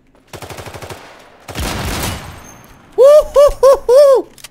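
Desert Eagle pistol shots in the video game Islands of Nyne: an early quick run of sharp cracks, a noisy blast, then four loud heavy reports spaced evenly, with a voice briefly audible.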